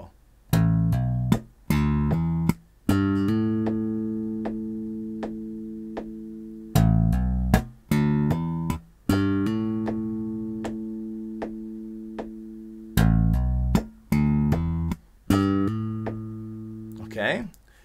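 Slap bass phrases played on electric bass, with hammer-ons and pull-offs: bursts of sharp plucked and slapped notes with ringing sustained tones, repeated several times in a loose rhythm, close and clear with no talking.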